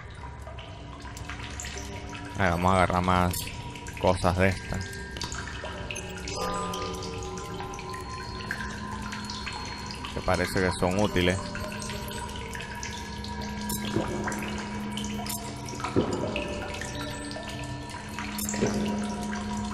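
In The Solus Project video game, drinking water trickles and splashes in a cave, a soft ongoing flow with a few louder bursts of running water, while someone talks over it.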